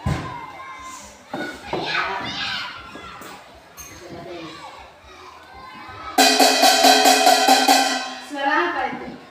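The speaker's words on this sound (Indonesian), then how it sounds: "suara panci yang Ibu pukul tadi" A metal cooking pot is struck in a classroom, a loud, bright, ringing burst of rapid metallic bangs arriving after stretches of children's voices and thumps.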